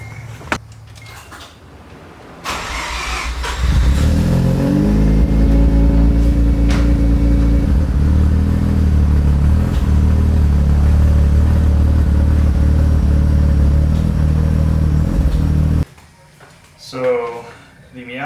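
A Mazda Miata with a faulty cylinder number 4 injector cranks and fires up inside a garage, running with a loud, steady, uneven idle before cutting off, with some talk at the start and end.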